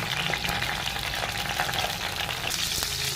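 Eggplant sizzles and fries steadily in oil in a pan, a continuous close crackling hiss with faint stirring, no voices.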